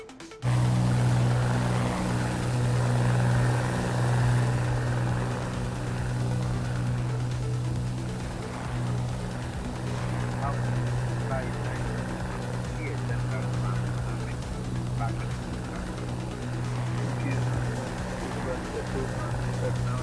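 Steady drone of an aircraft engine in a flight simulator during a full-power takeoff, loud and continuous throughout, with radio-style voices speaking over it.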